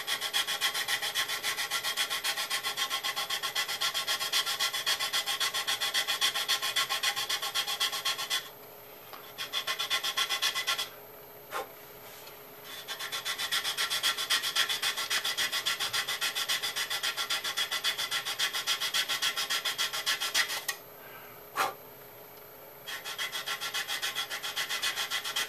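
A 240 grit sanding stick rubs against the pylon of a model aircraft in close, steady back-and-forth strokes, pausing briefly a few times before resuming.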